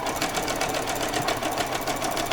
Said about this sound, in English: I just pop that underneath the machine. There we go, and we're going to just sew straight across